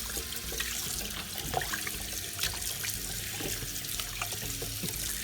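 Running water from a kitchen sink tap splashes steadily over freshly caught salmon as they are rinsed of sand, a continuous close hiss and trickle with small irregular splashes throughout.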